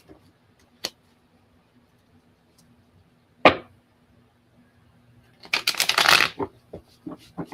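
A few sharp snaps of tarot cards are followed by a quick riffle shuffle, a burst of rapid fluttering clicks, then a couple of soft taps, close and clear.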